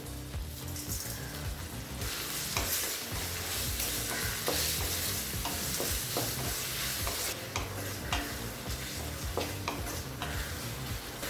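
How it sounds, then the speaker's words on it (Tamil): Tomatoes with salt sautéing and being stirred in a pan for a Tamil mochai kulambu, a steady broadband sizzle with irregular clinks and scrapes of stirring, no voices. "இப்போ தக்காளி நல்லா வதங்கிடுச்சுங்க."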